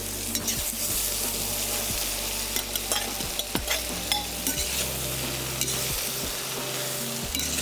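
Carrots are tipped into a beef goulash in a kazan and stirred, with steady loud sizzling and frying under repeated scraping, knocking stirring strokes throughout.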